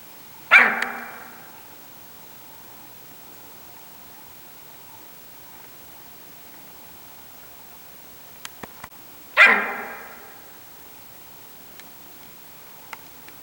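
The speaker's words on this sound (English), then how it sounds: "Elk barking." Two sharp, loud elk barks from a nearby ridge in Lincoln National Forest, spaced several seconds apart, each fading quickly into a quiet outdoor background with a few faint ticks.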